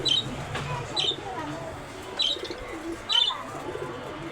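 Pigeons and other caged birds in a bird shop call out, with four short bright chirps spaced about a second apart over a low background murmur of cooing and shop noise.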